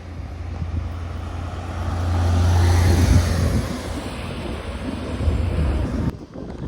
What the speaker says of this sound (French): on reconnaît bien le son du 4 litres 2